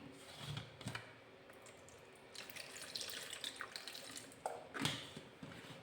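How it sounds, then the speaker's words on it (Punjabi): Faint running water trickles and splashes as cold water is poured onto cream to separate ghee, with a few light clinks and drips scattered through it; quiet and close. "ਇਹਦੇ ਵਿੱਚ ਹੁਣ ਆਪਾਂ ਨਾ ਥੋੜਾ ਜਿਹਾ ਠੰਡਾ ਪਾਣੀ ਪਾਵਾਂਗੇ"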